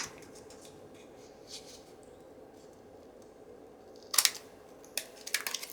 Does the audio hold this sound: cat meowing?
no